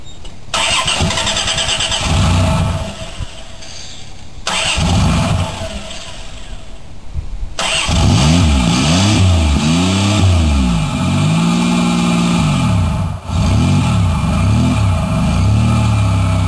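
A Chrysler Dynasty car left sitting for two months cold-starts with a loud crank and catch, settles into a rough idle, then revs up and down repeatedly, sweeping rises and falls, close and loud.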